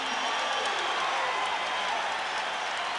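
Basketball arena crowd at a 1986 NBA playoff game between the Chicago Bulls and Boston Celtics, a continuous dense roar of cheering and clapping filling the space, steady and loud throughout.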